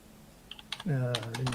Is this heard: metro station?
no